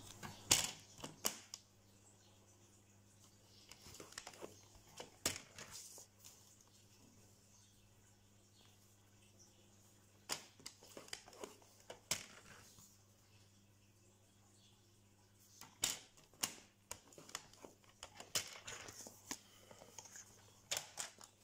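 A paper trimmer scoring fold lines into paper while making an Easter basket: a series of dry scraping, clicking passes in separate bursts against a quiet background, close and fairly soft.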